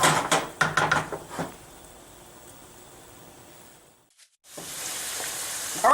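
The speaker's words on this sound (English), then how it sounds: "I want to let this white wine reduce at least by half." White wine sizzling and bubbling as it reduces in a pan with shrimp over a high-powered gas burner, a steady hiss with a few sharp clatters at the start, a brief quiet gap, then loud sizzling again.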